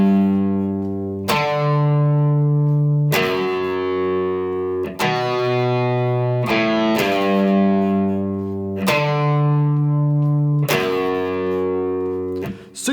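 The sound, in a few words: electric guitar playing a song intro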